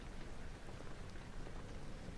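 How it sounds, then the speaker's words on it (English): Steady rain patters and hisses outside a castle in Amnesia The Dark Descent, a faint, even wash of wet noise with a low rumble of wind underneath. "You can hear wind rustling outside. Blowing, I should say. Perhaps raining, thunderstorming."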